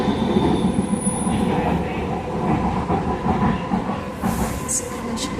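A Vancouver SkyTrain Expo Line train runs through a station, a loud steady rumble of wheels on rail with squealing tones and clatter building near the end.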